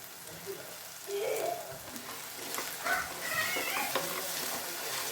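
Paneer tikka masala spices being stirred and mixed in a hot pan, a soft crackling sizzle with intermittent scraping of the spoon, moderately close and with no voices over it.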